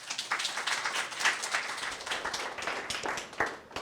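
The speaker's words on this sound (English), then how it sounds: "Please give him a round of applause." An audience at a lecture on emergency surgery applauds for a speaker, giving a sustained, fairly even patter of many hands clapping in a hall, moderately loud and continuous without speech.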